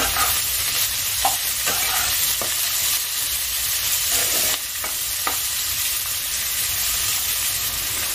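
Crushed garlic and chopped tomato frying in a pan for a dried loitta fish dish, with a steady close sizzle and repeated scraping stirs throughout.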